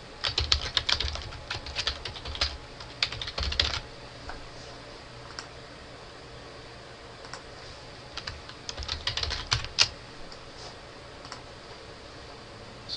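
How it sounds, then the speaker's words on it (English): Someone types on a computer keyboard, with quick bursts of close, crisp key clicks separated by pauses, over a faint background hiss. No voice is heard. "I'm just going to type in my address for the time being."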